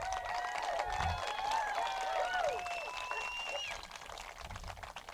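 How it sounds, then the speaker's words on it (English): Crowd at an outdoor freedom rally in Santa Barbara claps and cheers in a sustained, loud wash of applause, with whistles and shouted voices rising through it before it starts to fade. "Now you're clapping."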